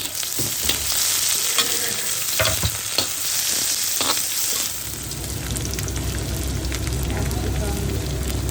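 Onions and spring onions fry for noodles in a home kitchen: a close, crackling sizzle with clattering stirring knocks early on, settling into a steadier hiss.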